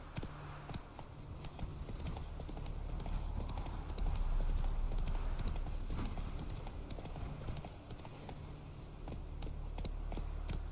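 In The Witcher 3: Wild Hunt, the horse Roach trots with a quiet, regular clip-clop of hooves, moderately near, under faint ambient noise.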